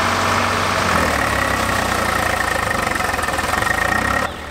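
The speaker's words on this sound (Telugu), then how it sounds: "అరే దిగబడ్డ ట్రాక్టర్" A tractor engine runs steadily while the machine is stuck in the mud of a paddy field, giving a loud, continuous low rumble that drops off abruptly at the very end.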